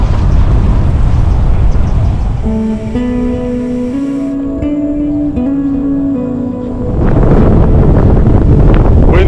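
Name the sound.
strong wind at Keem Bay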